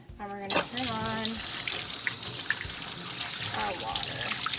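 A kitchen sink tap is switched on and hot water runs in a steady hiss. A voice speaks briefly near the start, and the water keeps flowing alone afterwards.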